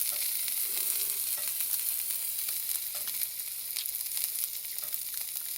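A freshly seasoned homemade sausage sample fries in a pan with a loud, dense, crackling sizzle that runs steadily throughout and pops constantly, with no voices over it.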